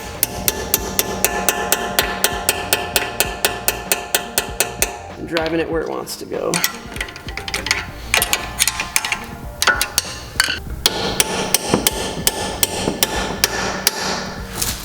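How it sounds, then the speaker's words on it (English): Rapid, steady metallic hammer taps ring out close by as brake pad pins are driven into a BMW M3 caliper, pausing briefly as someone speaks, then resuming at the same quick rhythm. "hammer in the pins from the back side"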